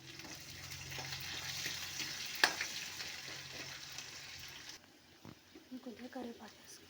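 Onions sizzle steadily in a hot pan for ridge gourd chutney, with a sharp utensil clink partway through and scraping stirring noises as the frying fades near the end.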